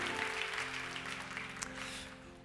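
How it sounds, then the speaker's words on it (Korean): Church congregation at a Sunday youth worship service applauding, a steady wash of clapping that stays fairly even and moderately distant for a couple of seconds. "우리 감사의 영광의 박수 올려드리도록 하겠습니다"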